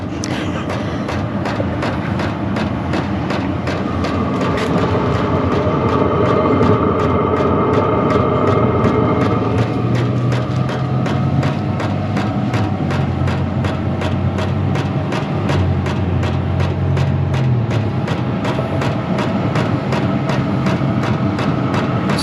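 A VEVOR all-in-one diesel heater running steadily, a loud constant low rumble with rapid ticking pulses and a faint whine throughout, no talk.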